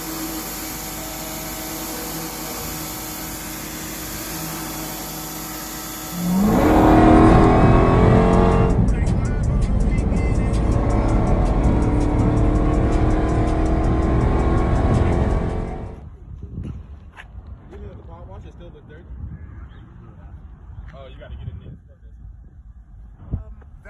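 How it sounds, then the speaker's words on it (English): A Dodge Durango wearing a Hellcat badge roars up loud and close with a hard, steady engine note, holds it for several seconds, then cuts off, leaving quiet background with faint clatter. "That looks like a Durango that has a Hellcat badge on it."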